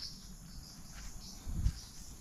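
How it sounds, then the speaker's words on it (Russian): Cicadas buzz at night in a Japanese park, a steady faint high insect drone running throughout, with a brief low thump near the end. "эти цикады еще будут жужжать тут"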